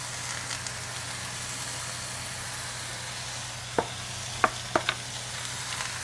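Food fries in a pan with a soft continuous sizzle, and a few sharp utensil scrapes and clinks toward the end as it gets stirred, close by and moderately quiet.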